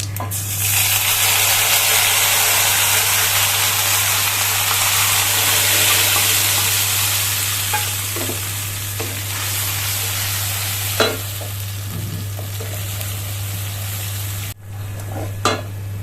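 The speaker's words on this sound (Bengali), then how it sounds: "এখানে দেখো একটুখানি সাদা জিরে আর একটু মেথি দিয়ে যে মশলাটা আমি দিলাম, এই মশলাটাকে আমি এর মধ্যে দিয়ে দেবো।" Cumin and fenugreek spice mix frying and sizzling steadily in a hot pan for Bengali home cooking, a loud continuous crackle with occasional stirring scrapes and a low steady hum underneath, no voices.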